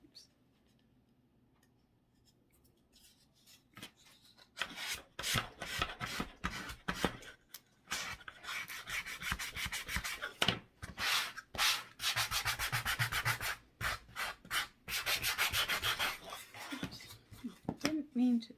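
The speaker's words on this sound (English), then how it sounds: "I'm just kind of sand the sides down just a little bit" Sandpaper rubs by hand along the edges of a wooden cross in quick back-and-forth strokes, starting after a quiet lead-in and continuing in bursts, with a voice talking in between.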